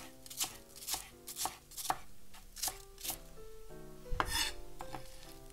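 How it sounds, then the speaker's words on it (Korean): A knife chops green onion (daepa) on a cutting board in a series of irregular sharp knocks and slices, close and moderately loud, pausing briefly before a final cluster of cuts. "반 갈라서 그냥 이렇게 세로로 잘라주세요"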